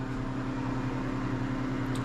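A freeze dryer in its freezing stage gives a steady mechanical hum with a low motor drone and faint whir, running continuously at close range, unchanging throughout.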